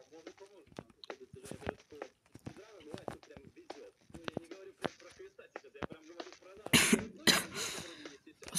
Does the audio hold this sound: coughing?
yes